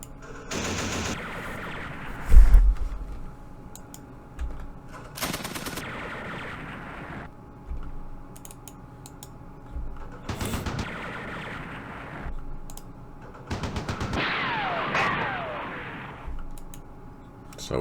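Machine gun and mortar fire from the Campaign Series Vietnam war game, set at the Battle of Pleiku 1968: several separate bursts of gunfire and a sharp boom, moderately loud against a quiet background, with short gaps between volleys.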